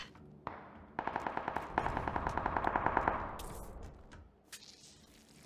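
Automatic rifle fire from the battle royale game PUBG, with a rapid sustained burst of shots in the middle followed by a few scattered single cracks, fairly close and loud.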